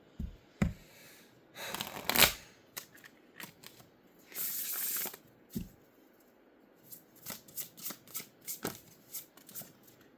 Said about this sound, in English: let's go ahead and pull from this other deck, and then we'll pull a little bit of tarot